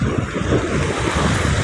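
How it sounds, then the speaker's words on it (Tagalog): Waves break and churn against a coastal dike beside a highway under construction near the Bulacan airport, a loud, close, continuous wash of surf buffeted by wind noise on the microphone. "Diyan pa lang basag na yung alon."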